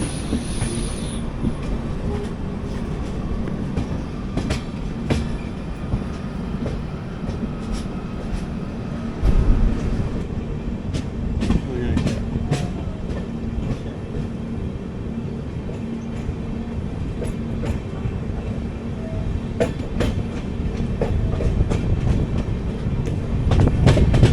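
A train pulling into Kollam Junction station, heard from inside an AC Economy coach: continuous loud rumble of wheels with rhythmic clicks over rail joints and occasional squeals, running steadily throughout with no talking.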